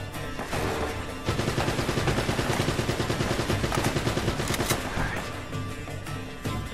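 Rapid bursts of automatic gunfire crackle through a firefight in the video game Uncharted: Drake's Fortune, dense volleys at a moderate level over a steady game soundscape, with no speech.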